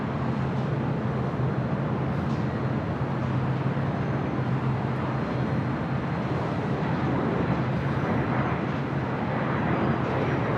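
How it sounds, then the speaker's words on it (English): A China Airlines Cargo Boeing 777 freighter taxiing at LAX, a constant low engine rumble and broadband hum heard from a distance, steady and unbroken with no talk. "we have a China Airlines Cargo 777 freighter heading to the 7s"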